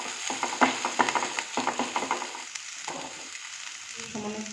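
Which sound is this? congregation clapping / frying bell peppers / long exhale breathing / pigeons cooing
frying bell peppers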